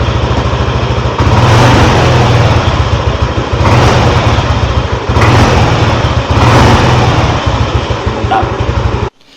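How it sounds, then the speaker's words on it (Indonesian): A Yamaha NMAX scooter engine runs loud and close with fresh oil just changed, a steady idle swelling into a few throttle blips before cutting off at the end. "suara motornya jadi lebih halus nih karena olinya baru. Kita coba gas, nanti harus pelan-pelan."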